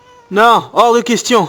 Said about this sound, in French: Ah, c'est mon chat ça.